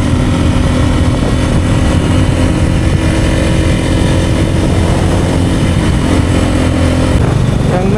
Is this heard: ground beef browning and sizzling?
no